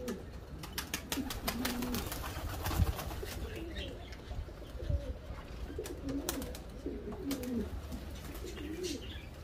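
Pigeons coo in a loft, soft repeated low calls spread through a busy background with scattered clicks, rustles and occasional thumps, no talk.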